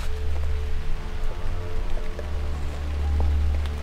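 Steady rain falls outdoors in a continuous hiss with a deep rumbling undertone and scattered drips, even and unbroken throughout with no voices.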